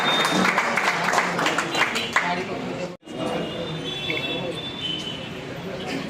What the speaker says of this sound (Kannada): ಜಾಕಿರ್ ಹುಸೇನ್ ಸರ್ ಅವರಿಗೆ ಚಪ್ಪಾಳೆ ಮುಖಾಂತರ ಸ್ವಾಗತ ಮಾಡಬೇಕು